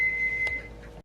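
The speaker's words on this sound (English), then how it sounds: "that's the timer for the dehydrated meat" A kitchen timer beeps for meat in a dehydrator, a single high steady tone lasting about half a second, followed by a brief quieter chirp in a quiet room before cutting off.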